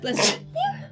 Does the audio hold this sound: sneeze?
yes